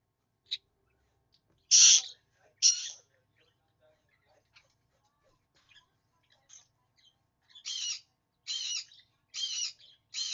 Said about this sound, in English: Bad bird. Bad. We don't screech.